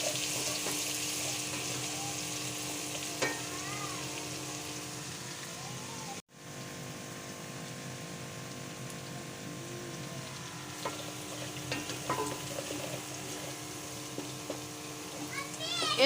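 Steady sizzling of garlic, ginger and green chili frying in ghee runs throughout, with people talking over it and a brief dropout partway through.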